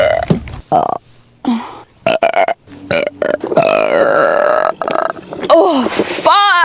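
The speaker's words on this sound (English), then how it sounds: "I know you said you didn't like the burping." Long, loud human burps come one after another, with croaky, gurgling belches broken by short pauses and ending in a rising squeaky vocal sound.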